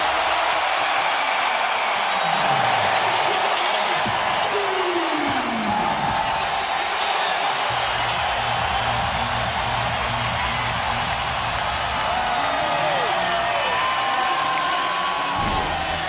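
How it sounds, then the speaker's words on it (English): A basketball arena crowd at the NBA Finals roars wildly and without pause after an alley-oop to LeBron James, a dense, loud wall of cheering and whoops that stays near-constant throughout. "Crowd going crazy."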